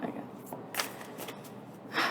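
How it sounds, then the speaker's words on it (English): A deck of cards is shuffled a few times in a tarot-style reading, with soft riffling bursts and a louder final flurry, near and brief, under faint background speech. "Shuffle it a few times and then just pull from the top"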